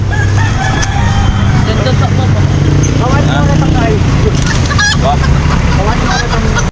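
Dense chorus of caged birds calling and chattering at a busy animal market in Angeles City, where African lovebirds and parrots are sold, with constant crowd noise and voices throughout.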